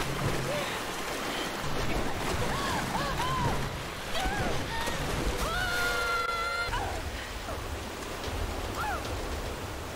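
Rushing river water in the Tomb Raider video game, a steady broad roar of churning water that runs through the whole stretch, with a voice talking over it.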